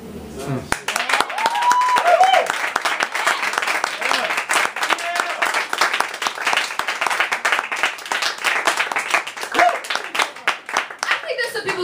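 Audience clapping and applauding throughout a spoken word poetry event, a steady sustained patter of many hands with voices talking over it.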